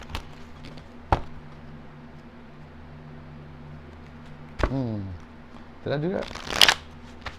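A deck of tarot cards being shuffled, with quick riffling bursts and sharp taps spread through the moment, while someone speaks over the handling.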